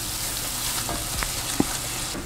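Thick, creamy butter chicken sauce with paprika and sugar sizzles steadily in a pan while being stirred, with a few soft scraping knocks from the utensil over the frying hiss and no talk.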